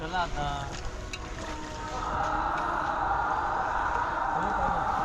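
A boat moves across the sea off the Malvan coast on a calm evening trip, with a steady engine-and-water rumble that swells after a couple of seconds and voices talking briefly near the start.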